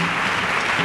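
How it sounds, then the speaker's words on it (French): Church congregation clapping and cheering during a testimony service, a dense, loud, unbroken wash of applause filling the whole moment. "Clap for Jesus."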